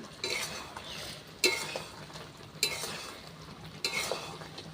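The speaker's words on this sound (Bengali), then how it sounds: "একটু মশলা দিয়েও ভালোভাবে একটুকুনি নাড়াচাড়া করি" Mango and jaggery pickle with spices is stirred in a pan. A spoon scrapes the pan in four distinct, regular strokes over a soft background sizzle.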